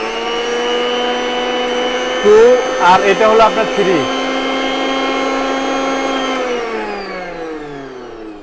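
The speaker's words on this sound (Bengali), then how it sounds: "এই ব্লেন্ডারটার মোটর স্পিডটা কেমন একটু লাইন দিয়ে দেখান" A Miyako Hotel Chef blender motor whirs steadily at one speed, briefly changes pitch as it steps to another setting, then holds a loud, even drone that winds down toward the end, with someone speaking briefly over it.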